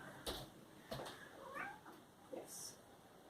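A house cat meowing at a closed door, a few faint, brief meows spread over a quiet room with scattered soft knocks and handling noises.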